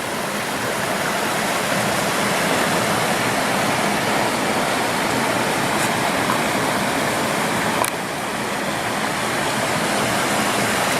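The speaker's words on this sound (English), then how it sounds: "Right where Relief Valley Creek comes into the reservoir." Relief Valley Creek pours into a mountain reservoir beside a swimming hole near a campsite, a steady, loud broadband rush of falling water that holds even and unbroken throughout, with no voices.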